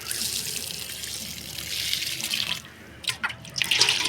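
Moringa leaf liquid fertilizer pours steadily onto a garden plant, a continuous splashing stream that breaks into a few shorter gushes and trickles near the end.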